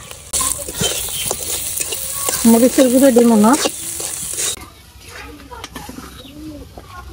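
Shrimp with green chili, onion, turmeric and salt frying in oil in a village kitchen, a steady sizzle with stirring scrapes, while someone speaks over it and a bird coos in the background.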